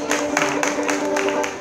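A brief burst of audience clapping at an Oppenau street festival, applauding children after a one-man-band performance, steady and moderately loud over a faint tonal hum.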